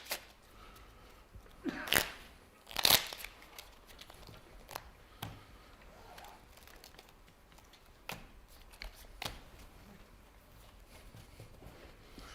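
Playing cards being shuffled nearby, a few brief riffling bursts standing out from a quiet room, with light handling taps between them.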